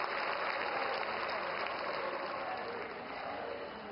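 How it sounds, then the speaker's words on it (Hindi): Loud, sustained applause from a large crowd welcoming the Prime Minister at a political public meeting, a dense and even wash of clapping that holds steady for the whole stretch. "एक बार जोरदार तालियों के साथ माननीय हमारे देश के यशस्वी प्रधानमंत्री जी का स्वागत और अभिनंदन करें"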